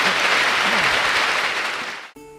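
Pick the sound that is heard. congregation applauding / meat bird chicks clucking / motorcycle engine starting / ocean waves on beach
congregation applauding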